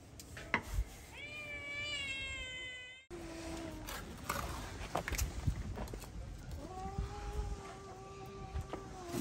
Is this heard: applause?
no